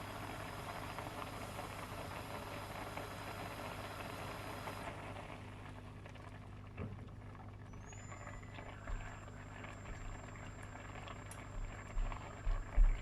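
Water boils in a pot of rice for an Indian dish, a low, rumbling bubble that is steady at first, then drops off and turns quieter and sparser as the water reduces.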